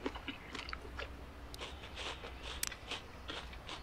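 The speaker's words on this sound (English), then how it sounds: "Those are some crunchy peas." Crunchy peas being eaten in a video game, a series of crisp, close bites and chewing crunches in an irregular rhythm, fairly quiet with no talking.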